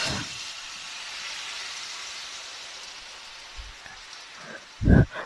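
Milk is poured into a hot carrot halwa mixture in a pan, giving a steady soft sizzling hiss that runs through the whole stretch, with a few louder bubbling pops near the end.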